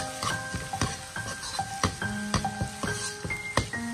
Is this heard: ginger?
yes